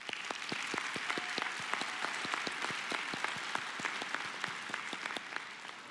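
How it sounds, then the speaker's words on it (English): Steady audience applause fills a graduation ceremony hall, with many distinct hand claps in a continuous, moderately distant round that carries on without talk. "join me in a round of applause for the family members, mentors, faculty, and staff who helped them reach this milestone"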